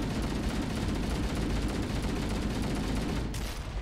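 Dense, steady gunfire from a weapon in Halo: Combat Evolved, a continuous loud burst-heavy wash with no clear gaps between shots and no talk over it.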